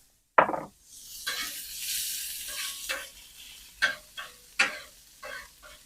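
Onions hit a hot pan on rendered fat with a sudden loud sizzle that settles into a steady hiss, broken by a few sharp scrapes of stirring, close up and with no voices.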